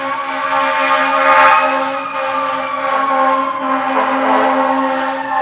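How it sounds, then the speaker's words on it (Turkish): A loud ambulance siren wails with rising and falling tones over traffic noise in the Bronx, New York, sounding fairly close and continuous. "Buranın ambulansları da Londra'nın ambulanslarını aratmıyor. Çok gürültülü."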